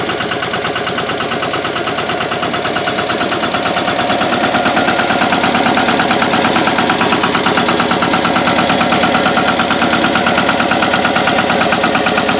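A Pasquali MR 12cv compact tractor with a Lombardini diesel engine running with a rotavator turning: loud, close, rapid knocking chug, steady throughout and slightly building in volume.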